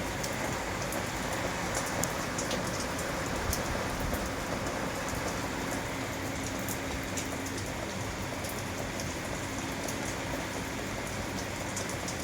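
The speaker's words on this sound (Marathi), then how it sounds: "तर बाहेर बघा, भरपूर पाऊस पडत आहे." Heavy rain pours steadily outside during a monsoon downpour, a dense, constant hiss of drops hitting surfaces with no pauses, occasional sharper splatters standing out over the even roar.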